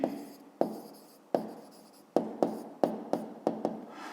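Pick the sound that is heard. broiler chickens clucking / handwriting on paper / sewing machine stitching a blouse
handwriting on paper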